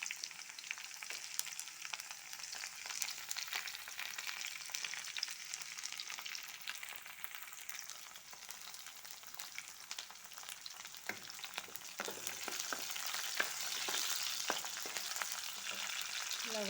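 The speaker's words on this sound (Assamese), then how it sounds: "ইয়াত তেল দি লৈছোঁ। তেল গৰম হ'ব দিম। মই জলকীয়া দি দিলোঁ" Fresh green chillies frying in hot oil, a dense continuous sizzle with occasional stirring clicks from a utensil, close by and swelling louder toward the end, with no voices.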